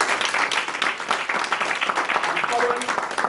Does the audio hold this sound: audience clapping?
yes